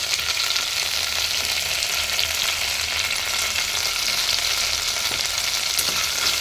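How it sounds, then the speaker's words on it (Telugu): Mint and coriander leaves frying in a pan, a dense continuous sizzle and crackle heard close and loud, steady throughout with no voices. "కొంచెం ఫ్రై అవుతూ ఉన్నాయి కదా."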